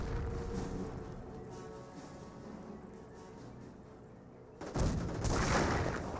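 Dense, overlapping rifle and machine-gun fire in Company of Heroes 1 as a US Rifleman squad comes under suppressing fire, a steady rattle of shots that swells louder near the end, with no talking.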